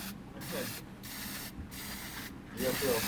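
A speaker cabinet plate being spray painted in short repeated bursts, four hissing sprays separated by brief pauses, close and fairly loud against a low background hum.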